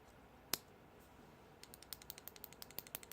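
A Force Relics Katarn Prizm mouse switch clicks close up: one sharp click, then a quick run of about a dozen light, evenly spaced clicks, crisp and alone in a quiet room.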